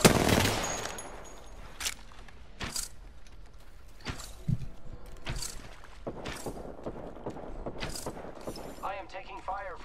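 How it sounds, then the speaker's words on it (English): Gunfire in the video game Apex Legends, with repeated sharp shots at irregular intervals, some in quick bursts, loud and punchy, while players talk over the shooting. "I am taking fire, friends."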